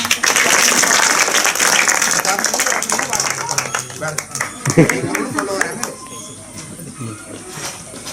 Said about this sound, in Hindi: ताली बजाए बच्चे।